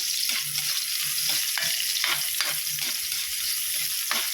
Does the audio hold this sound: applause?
no